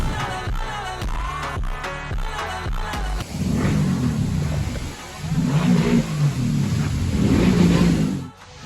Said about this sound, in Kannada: ಹೊರಗೆ ಬೈಕ್ ಒದರ್ಸಕತ್ತಾರಲ್ಲ